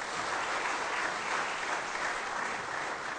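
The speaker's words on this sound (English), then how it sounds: "let us give a big round of applause to the awardees" Steady, dense applause from a large audience at an agricultural research foundation day ceremony, sustained and even throughout with no talk over it.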